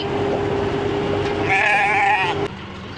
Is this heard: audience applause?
no